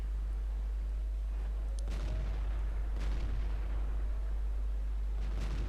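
Tank cannon fire in World of Tanks, a few distant booming shots with sharp cracks around two, three and five and a half seconds over a constant low engine rumble.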